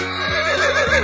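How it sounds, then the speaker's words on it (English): A horse gives a single loud, close whinny, its pitch wavering up and down for about a second with no other sounds around it. "Horse."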